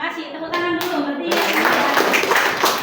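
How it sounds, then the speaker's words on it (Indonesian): Classroom clapping by students, beginning after a few words from a voice, then a dense burst of hands clapping together that continues at moderate loudness. "Tepuk tangan dulu berarti."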